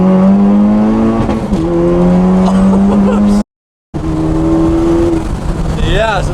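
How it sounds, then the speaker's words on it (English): A Honda Civic Type R with rolling anti-lag building boost, a loud sustained engine drone with rising tones, cut by a brief dropout, with a fluttering whine near the end and voices talking over it. "No, that's anti-lag, dude."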